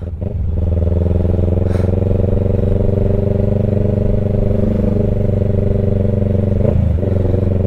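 Large motorcycles on a tour ride near the Pililla windmills in Rizal, a loud steady engine drone close by that holds throughout with a brief rise near the end.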